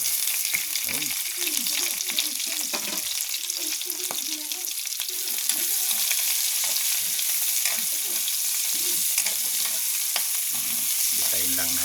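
Garlic and onion sautéing in hot pork fat in a pan for a Filipino lomi-style noodle soup, giving a steady loud sizzle throughout with frequent scraping and stirring noises over it.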